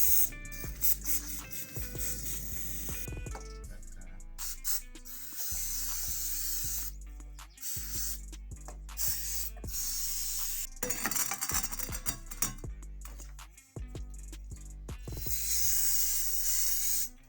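Spray cleaner hitting the rear brake of an RKS Spontini motorcycle during a brake pad change, in short bursts of hissing spray broken by pauses and small clanks of workshop handling.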